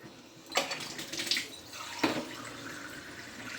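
Water is poured into a pot in a home kitchen in two short, splashy bursts, the second trailing into a softer trickle.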